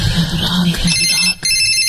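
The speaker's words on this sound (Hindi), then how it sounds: "मोबाइल का घंटी बज रहा है।" In a Hindi radio drama, a mobile phone rings loudly and close up in a short electronic tone pattern, which cuts off briefly near the end and then resumes.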